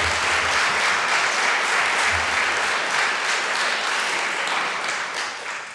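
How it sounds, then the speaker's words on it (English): Sustained applause from a Unitarian Universalist congregation fills the space, steady and dense throughout before thinning slightly at the end. "Clap, clap, clap."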